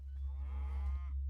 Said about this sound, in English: Ooh, cows.